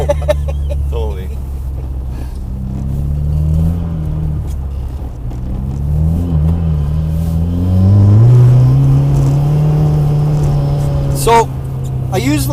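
An ice racing car's engine hums and rises in pitch as it accelerates on ice, loud and continuous, with people talking over it.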